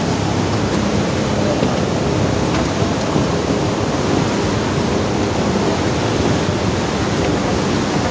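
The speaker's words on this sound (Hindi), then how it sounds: "मंदाकिनी नदी है" The Mandakini river rushes beneath an old bridge on the Kedarnath trek, a loud, steady broadband roar of flowing water that holds constant throughout with no voices.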